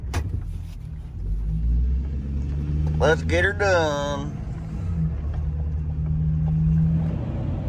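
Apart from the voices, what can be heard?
vehicle engine revving while backing into traffic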